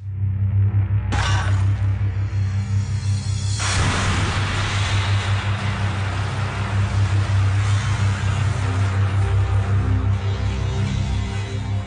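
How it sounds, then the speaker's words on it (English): A bomb blast in a test shatters untreated glass, a sudden loud burst that gives way to a sustained crashing, hissing spray of breaking fragments over a constant low hum. "This test shows the effects of a bomb blast on untreated glass."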